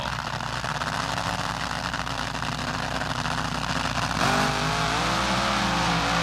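Two drag racing cars at the 1976 NHRA Gatornationals launching and smoking their tires, a loud sustained engine roar that rises in pitch as they pull away, close and steady.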